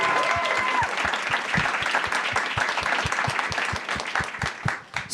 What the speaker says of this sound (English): Let's give all of our panelists one more